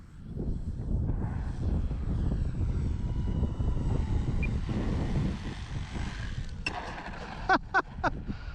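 An E-flite EC 1500 RC model plane's electric motor drones steadily while flying in high, gusty crosswind, wind buffeting the microphone, then sharp knocks near the end as it touches down and bounces on landing.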